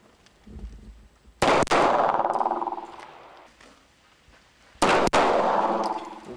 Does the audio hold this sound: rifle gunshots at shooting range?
yes